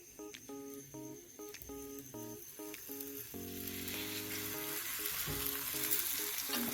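Spiced taro slices fry in a little oil, a steady sizzle that grows louder and denser over a few seconds while background music with plucked tones plays throughout.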